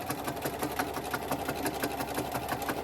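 A sewing machine running a zigzag stitch through tee-shirt fabric for a diaper, with a fast, even, close mechanical chatter that lasts throughout, alone and without speech.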